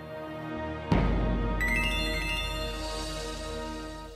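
A mobile phone rings indoors with a call from mom, a bright melodic ringtone rising clearly after a sudden thump, sounding over a soft background musical bed.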